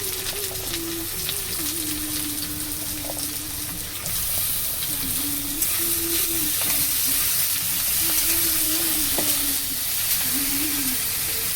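Mushrooms with capsicum and potato fry in a pan, giving a continuous close sizzle with occasional scraping stir strokes, while a low tonal hum and faint background sounds run underneath.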